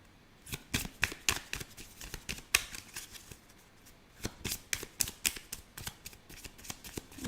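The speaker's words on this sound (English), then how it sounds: "Let's get some more cards out." Tarot cards are shuffled close by in quiet surroundings, producing rapid crisp riffles and slaps in irregular bursts separated by short pauses.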